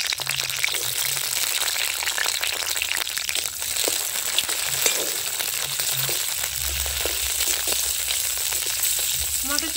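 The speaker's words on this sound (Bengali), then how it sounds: "এখন মটরশুঁটিগুলো ভেজে নেব।" Green peas frying in oil in a pan for vegetable fried rice, a close, steady crackling sizzle with occasional soft stirring and pops, continuous and without speech.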